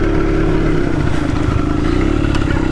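A Honda Z50 minibike running on old, stale fuel idles roughly with a continuous close-up rattling putter that wavers as though struggling to stay alive.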